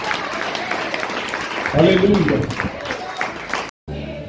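Church congregation clapping for Jesus at a year-end service, a crowd's applause mixed with voices calling out and a brief sung or shouted tone, cut off abruptly near the end.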